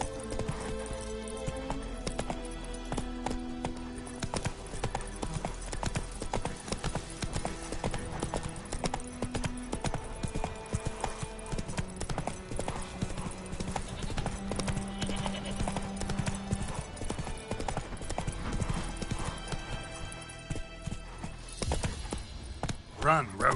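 A horse gallops in The Witcher 3 on PS5, its steady rhythmic hoofbeats running under game music and occasional speech throughout.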